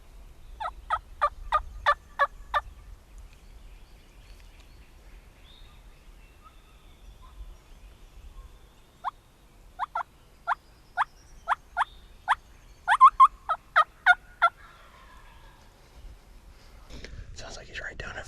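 Wild turkey gobbling in Ohio spring woods, two distant bursts of rapid rattling gobbles separated by quiet, faint and far off, with soft rustling near the end.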